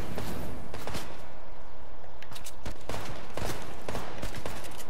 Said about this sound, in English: Where'd that gunshot come from?